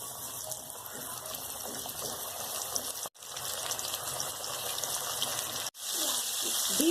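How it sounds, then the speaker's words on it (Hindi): Coated chicken leg pieces deep-fry in hot oil with a steady bubbling hiss that runs on, broken by two brief cuts. Someone speaks briefly over it. "अब हम डीप फ्राई करेंगे। अब मैं फ्राई कर रही हूँ।"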